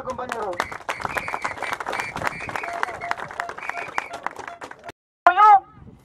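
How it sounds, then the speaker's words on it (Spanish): Striking miners at a rally in Huacho keep up steady rhythmic clapping beneath loud group chanting, then a brief gap before a sharp, loud shout rises near the end. "Palmas combativas, compañero."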